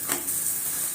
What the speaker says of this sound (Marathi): मागच्या साईडलाही तेल लागू दे. आता छान खरपूस भाजू द्यायचे